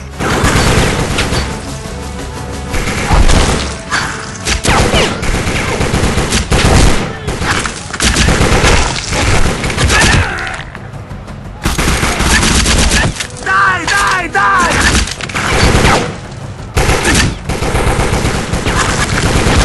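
Sustained bursts of automatic gunfire and loud booms from a Secret Service video game, dense and continuous with brief lulls, close and loud throughout.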